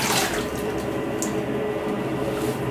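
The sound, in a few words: water running from a tap while rinsing a razor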